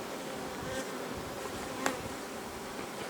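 A steady, dense buzzing of a honeybee colony in swarming mode fills the whole stretch, constant and moderately loud with no talking.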